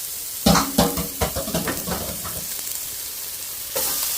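Onions hit hot lard in a pan for burritos, setting off a burst of crackling sizzle with a few sharp splattering pops up front, then a steady, moderately loud frying hiss.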